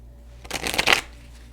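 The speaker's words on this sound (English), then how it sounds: "Let's go ahead and draw the cards for the reading." Tarot and oracle cards are shuffled in a single close, crisp riffling burst lasting about half a second, with near silence before and after and no talking.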